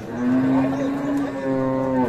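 A large Holstein Friesian dairy cow gives one long, loud, close, low moo lasting about two seconds.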